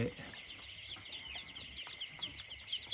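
Many high, thin peeping calls overlap continuously, a dense chorus of ducklings in a nursery pen at about 1 a.m., heard close up against a low background hum.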